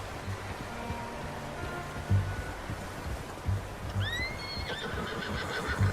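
A horse whinnies in the Red Dead Redemption 2 video game, a clear rising neigh late in the clip over steady rain and occasional hoof thuds, with no talking.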